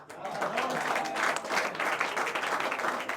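Audience applause at an anchoring workshop in a college hall in Ranchi, a steady wash of clapping lasting the full few seconds at moderate level, with no voices clearly over it.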